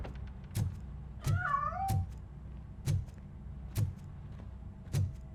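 A cat in Robocop: Rogue City gives a single drawn-out meow amid a regular series of soft thumping impacts spaced about a second apart, fairly quiet overall.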